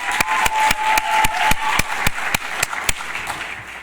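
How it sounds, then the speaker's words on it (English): A conference panel audience claps in a short round of applause, with sharp evenly spaced claps standing out over a softer patter of hands, fairly close and with no talk. "another round of applause for Gabby and Blanca"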